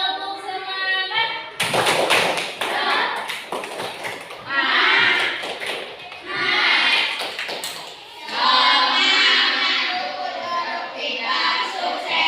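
A primary school class does a rhythmic spirit clap: sharp bursts of group clapping in patterned beats, separated by short pauses, with children's voices chanting along between the claps.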